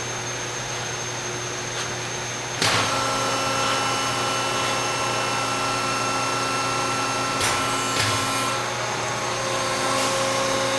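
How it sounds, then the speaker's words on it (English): A 75-ton Wabash hydraulic press with 15 by 15 inch heated platens runs under full tonnage, giving a loud, steady mechanical hum and whine with a sharp clunk near the start and another shift later on. "Press is going under full tonnage now."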